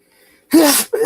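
A single sharp, loud sneeze from a man on a sports talk show, bursting out close to the microphone and followed by a brief vocal catch.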